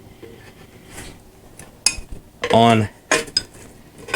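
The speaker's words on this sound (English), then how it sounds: "put some weight on here, and start working this around" Metal tire spoons lever a Michelin tire onto a Harley-Davidson motorcycle rim, giving sharp clanks and scraping metallic knocks in uneven bursts, with a short spoken word among them.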